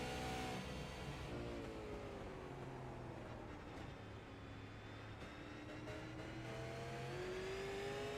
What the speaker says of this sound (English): Let's go into the seat of that car, see what it's like going around here.